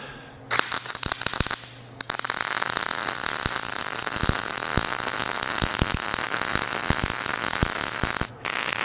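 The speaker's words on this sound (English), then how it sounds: "let me weld the end of that." Welding on the end of a steel rod for a rat rod crane sculpture, a loud crackling buzz with sharp pops and clicks, briefly interrupted near the start and stopping for a moment near the end.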